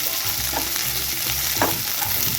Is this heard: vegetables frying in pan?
yes